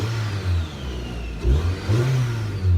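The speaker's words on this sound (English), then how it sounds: "there's like good engine noise, I guess, but there's no exhaust noise like at all" A Mazda3 engine with a stock exhaust and little exhaust note revs up and down in several swells, heard up close as a loud, steady mid-pitched whir and rumble carrying audible induction noise.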